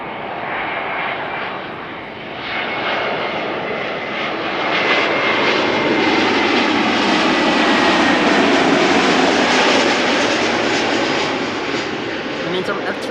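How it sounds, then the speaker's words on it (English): Air Transat Airbus A321neo jet arriving on the Polderbaan runway at Amsterdam Schiphol, a loud, steady engine roar that swells and holds close by for over ten seconds. "A321neo arriving from Montreal."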